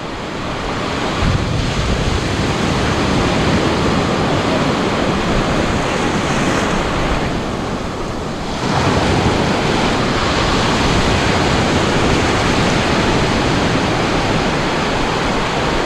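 Strong sea waves surge loudly and continuously at a coastal fishing spot where nets are set, heavy with wind buffeting the microphone and no voices.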